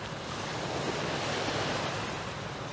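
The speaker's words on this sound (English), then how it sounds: "Love to hear the water lapping." Water laps nearby in a steady soft wash, a continuous gentle broadband rush with light wind noise and no voices, fairly quiet throughout.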